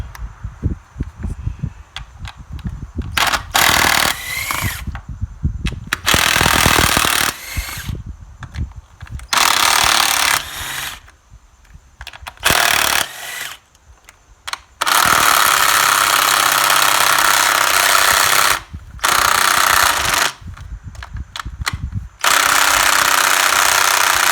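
A power drill whirs loudly in repeated bursts, loosening valve cover bolts on a Chevy Cruze 1.4L engine, each run of a few seconds broken by short pauses, close up with heavy mechanical rattle.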